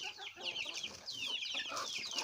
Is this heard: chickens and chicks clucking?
yes